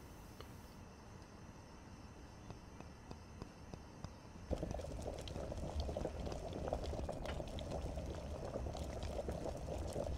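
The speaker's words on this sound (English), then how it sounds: "Oh, okay, it boils really fast." A pot of water boils on a stove in the video game Brewpub Simulator, a faint simmer with soft ticks that swells midway into a steady, loud bubbling roil.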